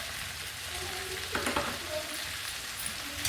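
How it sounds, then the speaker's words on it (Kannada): Cooked papaya being stirred with salt in a pan, a soft sizzle running throughout with scraping spatula strokes and a few louder clanks partway, close and alone without talk. "ಎಲ್ಲ ಮಿಕ್ಸ್ ಮಾಡ್ಕೊಳ್ತೀನಿ"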